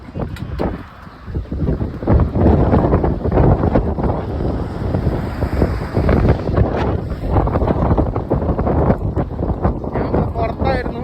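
Strong wind blowing outdoors, a loud, continuous roar buffeting the microphone with gusty surges, nearly drowning out a voice talking underneath.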